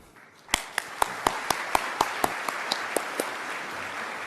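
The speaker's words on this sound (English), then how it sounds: "Please join me in a huge applause for the finalists" Applause for award finalists at the WA Education Awards Breakfast: a run of evenly spaced, crisp claps beginning abruptly and carrying on steadily, fairly near and alone without talk.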